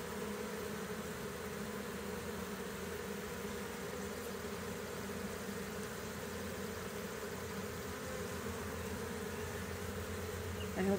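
A huge honey bee swarm buzzes outdoors around a tree and a hive entrance, a dense, continuous drone of many insects that holds steady throughout.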